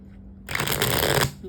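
A quick riffle shuffle of playing cards, a crisp fluttering burst lasting under a second, up close against a quiet background.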